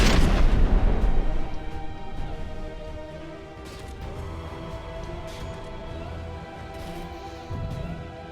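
Ship guns fire in a naval combat game during a Dread Not Nautical Domination tournament match, starting with a heavy booming salvo that fades into a rumbling, ringing tail with scattered softer impacts.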